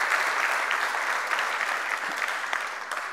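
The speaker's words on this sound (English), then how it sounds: "Please clap for yourselves." Attendees at a faith and science session on the climate crisis applaud themselves, a sustained broad wash of many hands clapping at moderate level with no talking over it, lasting around three seconds.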